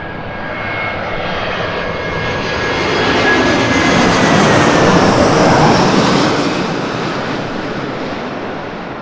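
A Delta airliner's jet engines roar at LAX, a loud broad rushing sound that swells to a peak mid-way and then eases as the plane passes, with no voices.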